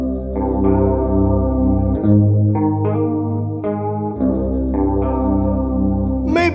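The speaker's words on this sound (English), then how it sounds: "you can try to make your clean tone sound watery and filtered during the I'm sad" Clean electric guitar tone for nu metal, made watery and filtered, plays a slow sequence of ringing notes and chords with a wobbling chorus shimmer, close and steady with no voices.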